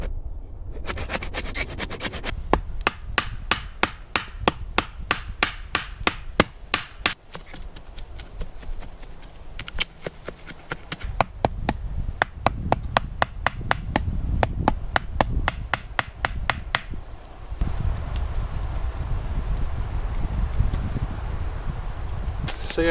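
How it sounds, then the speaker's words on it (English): Wooden stakes have their ends sharpened for driving into the ground at an off-grid tent camp, heard as a long run of sharp, rhythmic chopping strikes, close and loud, with short pauses between bursts. "now I'm going to need to sharpen the ends of these, just so that they can stick in the ground"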